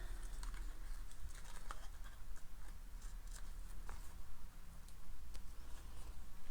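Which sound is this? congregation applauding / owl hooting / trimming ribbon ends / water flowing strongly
trimming ribbon ends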